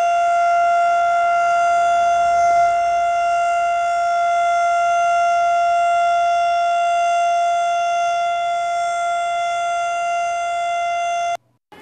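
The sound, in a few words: fire station civil defense siren, stationary observer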